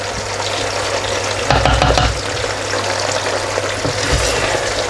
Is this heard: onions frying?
yes